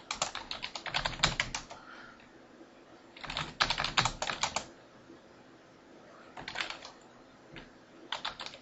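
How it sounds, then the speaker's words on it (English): Rapid typing on a computer keyboard during database data entry, coming in several quick bursts of clicking keystrokes with short pauses between them, close and clear with no talking. "Might as well try and type it right."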